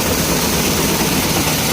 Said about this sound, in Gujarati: અત્યારે ઘઉં સાફ કરવાનું મશીન આવ્યું છે